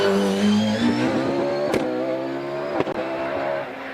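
An OMS 28 hillclimb race car with a 3.2 litre RPE V8 launches from the start line at Harewood, its engine howling loud and close at high revs, with brief sharp gear-change breaks and no talk.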